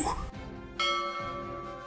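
A bright notification bell chime rings twice, a short ding followed by a longer ringing tone that sustains and fades, heard clearly and alone.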